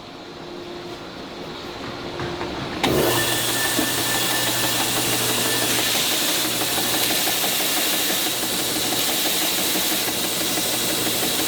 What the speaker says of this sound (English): we'll sand those edges just to take away some of that burr